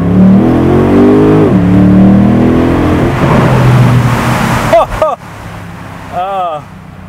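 A BMW M850i xDrive convertible with about 530 horsepower launches through a tunnel, its engine note rising loud and steady before a quick cluster of sharp exhaust pops and bangs near the end, with someone talking over it.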